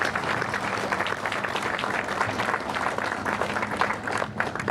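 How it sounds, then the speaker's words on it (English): Sustained applause from an outdoor crowd at an Army change of command ceremony at Fort Bragg, steady dense clapping throughout with a slight dip near the end. "Let's give a big round of applause"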